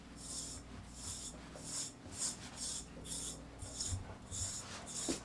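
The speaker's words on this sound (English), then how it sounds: "So I'm going to just run this through his coat and show you." An Equigroomer de-shedding tool, a non-metal grooming blade, is drawn through the coat of a Rottweiler-Mastiff mix dog in steady, evenly spaced raspy strokes, about eight in a row, close by and alone.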